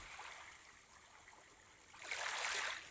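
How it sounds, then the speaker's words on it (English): Gentle lake water lapping in a quiet outdoor scene of a Taisho-era romance game, a soft continuous wash that swells louder toward the end, heard alone. "I noticed that the sound of the waves seemed to echo quite loudly"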